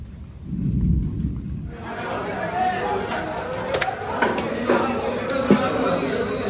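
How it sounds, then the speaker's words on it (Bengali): A low, rolling thunder rumble at a rural village gives way to a steady, moderately loud hiss of rain falling. "বৃষ্টি শুরু হয়ে গেছে।"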